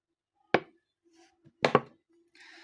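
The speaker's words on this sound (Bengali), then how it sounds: "তো এখন ডোটাকে সুন্দর করে হাত দিয়ে এভাবে মাখিয়ে নেব।" Chicken momo dough worked by hand, giving a few sharp, close slaps and thumps spaced apart, with quiet stretches between them.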